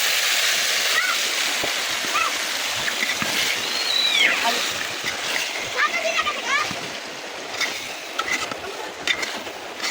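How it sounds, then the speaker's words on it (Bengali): Marinated chicken pieces poured into a pan of browned fried onions, giving a steady loud sizzle and splatter throughout, with scattered clinks and stirring. "এরপরে ম্যারিনেট করা মাংসগুলোকে ঢেলে দিব।"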